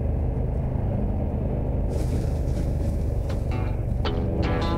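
On a coastal road in Corsica, a car passes near a motorcycle, its rumble mixing with steady road and wind noise before a brighter hiss swells as it goes by; no talking.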